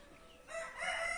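A single village chicken cackles briefly at a moderate distance, a harsh rising call over quiet background hiss.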